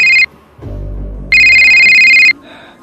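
A telephone ringing, two loud electronic bursts of bright ringing separated by a gap containing a low muffled rumble, close and piercing.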